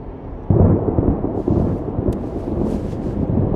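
A thunderstorm in the game Life is Strange: Double Exposure, a deep rolling rumble that swells suddenly and keeps booming steadily, loud and near, with a faint rain-like hiss above it and no voices.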